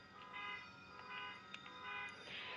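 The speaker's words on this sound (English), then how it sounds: "Sorry about the car alarm in the background." A car alarm sounds in the background, heard as faint steady tonal beeping that holds for the whole moment under a low hum, with no talking.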